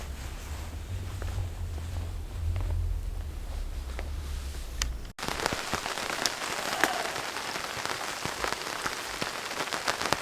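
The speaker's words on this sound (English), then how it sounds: "Well, the rain's come in." Steady rain patters on a surface at a lake campsite during an overland trip, a dense, continuous hiss with scattered close drops and no speech.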